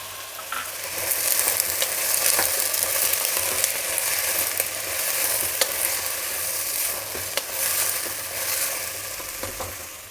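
Vegetables and frozen peas sizzle steadily in a pan for khichdi, a continuous bright crackling fry with occasional stirring scrapes, close and alone without any talking.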